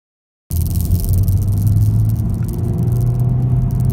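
Honda Civic Type R with 310 brake horsepower and a six-speed manual gearbox pulling hard in second gear, a steady close engine drone whose note climbs slightly, with no talking.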